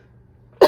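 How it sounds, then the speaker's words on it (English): A single short, loud cough from an adult recovering from COVID, arriving abruptly near the end after quiet room tone. "I need to cough"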